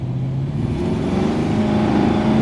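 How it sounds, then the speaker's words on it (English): A 1989 crew cab squarebody truck with a 502 big block engine roars loudly as its tires spin hard, a steady, close rumble of engine and wheelspin lasting the whole moment without speech. "oh yeah, she was spinning pretty hard"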